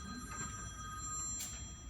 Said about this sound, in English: His phone is constantly ringing at all hours with solicitation calls from other kingdoms.